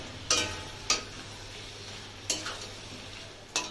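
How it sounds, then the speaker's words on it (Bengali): Potatoes and pointed gourd dropped into hot spiced oil, a steady sizzle broken by four or five sharp scraping stirs of a spatula in the pan, close and alone. "এবার আমি আলু পটলগুলো দিয়ে দেবো।"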